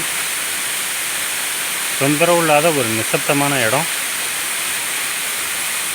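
Dabarkhola waterfall in the Hindol-Badamba reserve forest gives a steady broadband rush of falling water, constant and enveloping, with someone speaking briefly over it.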